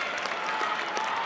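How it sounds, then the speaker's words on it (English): Table tennis crowd at a 2019 women's doubles semifinal applauding and cheering in a steady, dense wash of clapping that holds at the same level for the whole short stretch. "Sun Yingsha's got the crowd jumping here."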